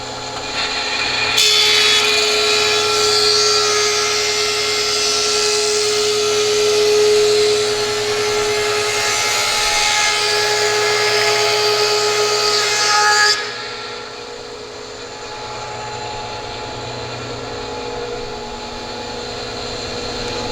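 A loud, steady power-tool roar of a Powermatic 15-inch helical-head planer running across a wood board for about twelve seconds, then cutting off to a lower motor hum.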